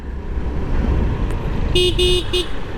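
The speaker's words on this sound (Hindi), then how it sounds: "हॉर्न भी आपको आराम से सुनाई दे रहा होता है।" A Yamaha RayZR 125 Hybrid street rally edition scooter sounds its horn in three short beeps, close and clear, the last one briefest, over low outdoor road and traffic background.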